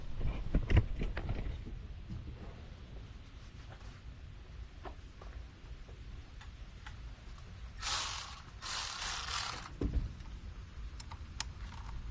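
A ratchet works on the fuel rail bolts of a Dodge Sprinter engine, with quiet, close clicking and mechanical ticks spread through the stretch, plus a couple of brief louder hissing bursts midway and no speech.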